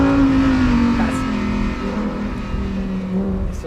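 A Lamborghini Huracan STO, a track-focused supercar, drones loudly and steadily up close, its engine note holding a constant pitch that sags slightly partway through.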